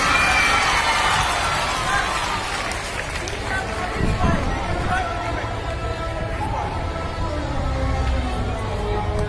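Applause and cheering from a school audience for a student group at an Independence Day 2022 assembly in a hall, a dense, steady wash of clapping and crowd noise that slightly eases midway and continues throughout.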